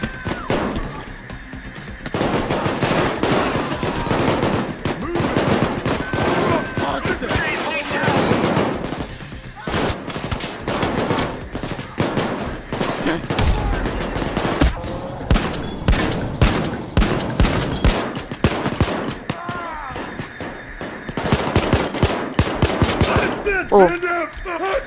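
Gunfire in the heist shooter Payday 2, set in a club: dense bursts of automatic and single shots crackle almost continuously for the whole stretch, loud and close, with voices talking over the shooting.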